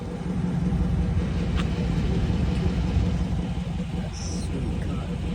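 A Dodge Scat Pack V8 with 3-inch straight pipes and mid and rear mufflers deleted idles close by, giving a steady, loud, deep exhaust rumble throughout.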